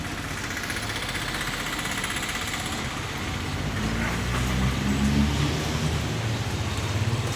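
A vehicle engine idles steadily in a hotel parking area, a low continuous rumble with a mild vibrating texture that holds evenly throughout, no voices on top.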